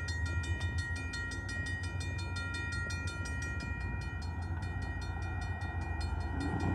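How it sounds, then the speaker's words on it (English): A long Pan Am freight train rumbles steadily past nearby in New Britain, Connecticut, with continuous rolling clatter and a sustained high tonal whine over the low rumble, no voices. "And this is a long train,"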